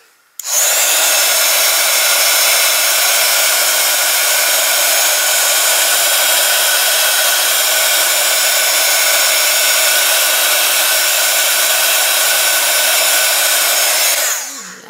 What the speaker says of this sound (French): Et on repart pour le heat gun.